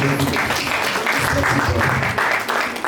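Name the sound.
applause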